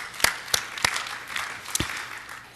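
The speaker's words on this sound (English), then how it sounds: "you should give yourselves a round of applause for all you've done for the industry" Conference audience applause in a short burst, a dense spread of clapping with several sharp, close individual claps standing out in an uneven rhythm, moderately loud.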